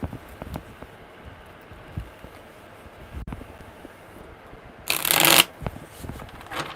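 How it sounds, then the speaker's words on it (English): A quick burst of tarot cards being shuffled, loud and crisp for about half a second, amid quiet room noise and soft handling sounds. "Oh, that was a damn good shuffle."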